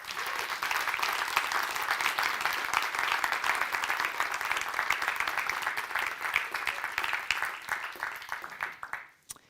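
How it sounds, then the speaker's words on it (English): Sustained, steady applause from a graduation ceremony audience, dense clapping that holds for several seconds before fading out at the end. "So let's applaud this great teamwork to your success now."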